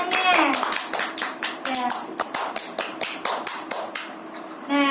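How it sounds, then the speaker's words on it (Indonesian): Students applaud a classmate in a classroom, a short burst of brisk, fairly loud group clapping with a few voices mixed in. "Berikan aplaus kepada temannya."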